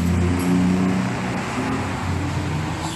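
A Yamaha Xabre motorcycle fitted with an FU 2008 aftermarket exhaust idles and revs steadily up close, a deep, loud, rumbling engine note holding for a few seconds without speech.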